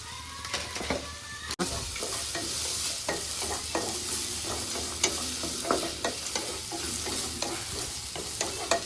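Onions frying in oil in a pan with bay leaf, cinnamon and cumin: a continuous close sizzle with intermittent scraping stirs and small clinks.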